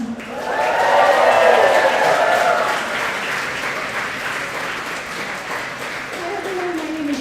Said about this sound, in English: One more round of applause for the band.